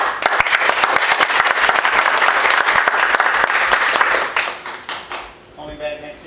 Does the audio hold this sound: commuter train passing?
no